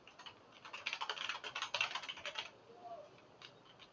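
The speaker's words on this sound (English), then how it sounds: "So if I type what is your name" A burst of quick, light clicks on a computer keyboard, fairly close and quiet, rattles in an uneven flurry and then trails off to a few faint taps.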